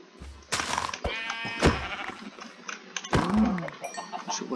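Sheep bleat in a blocky survival video game, several short, clear bleats at close range separated by brief gaps, with a thudding hit sound and no talking.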